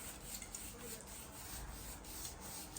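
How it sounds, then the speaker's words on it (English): Soft brush sweeping loose mortar off brickwork around a fireplace: a faint, continuous bristly scrubbing with a gentle rhythmic rise and fall of strokes, heard alone. "So with the soft brush, we just brush the loose off."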